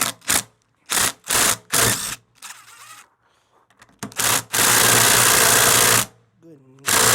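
A power tool spins transmission bolts out of a Honda Civic in short whirring bursts, then one longer sustained run, all close and loud, with brief speech-like sounds in between.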